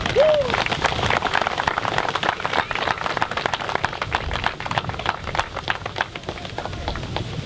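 Audience applause, a dense, steady patter of many hands clapping together that carries on at an even level throughout.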